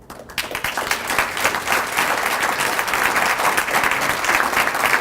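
Full audience applause at a school foundation event, dense and sustained throughout after a brief abrupt start, loud and close with a crowd of many hands.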